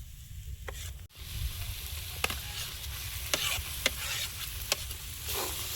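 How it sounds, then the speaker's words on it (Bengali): Kochu shak (taro leaves) stirred with fried spices in a pan, a steady soft sizzle with occasional scraping clicks of the spoon, close and continuous, no talking. "এবার এই ভাজা মশলা দিয়ে একটু নেড়ে চেড়ে আর নামিয়ে নেবো।"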